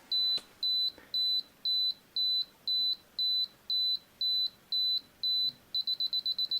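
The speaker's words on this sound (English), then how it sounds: "now here we hear the beeping" Self-timer on a Canon AE-1 Program 35mm film SLR beeping, a clear high tone repeating at a steady pace about a dozen times before speeding into quick rapid beeps, with a couple of faint clicks early on.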